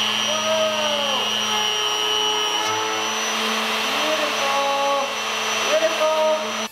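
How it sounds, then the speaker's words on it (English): A Triton router riding on a sled to flatten a wood slab gives a steady, loud, high-pitched motor whine with a constant tone, shifting slightly as the bit cuts, with no pauses. "I position my slab and set the depth of my router bit to start removing material to flatten the slab"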